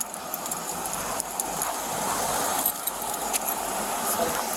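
House keys jangle steadily in a handful, a bright metallic rattle outdoors beside a car, with faint traffic noise in the background.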